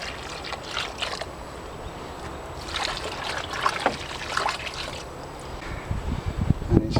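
Water is poured and trickled onto freshly planted horseradish on an allotment, soft splashing and dribbling in uneven bursts against quiet outdoor background, ending with a closer splash.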